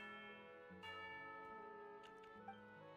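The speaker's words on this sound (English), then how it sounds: "You hear the sound of a bell." A tea-time bell rings in the video game Genshin Impact, a soft sustained chime with a couple of struck tones layered over a quiet musical background, faint and without talk.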